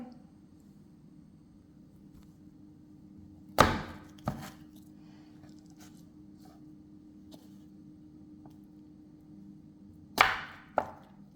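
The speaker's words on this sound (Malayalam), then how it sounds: "ചെറിയ കഷ്ണങ്ങളായിട്ടാണ് കണ്ടിച്ചെടുക്കുന്നത്" A knife chopping green tomatoes, shallots and green chilies into small pieces on a board, a few sparse sharp thunks in two clusters over a quiet steady background hum, with no talking.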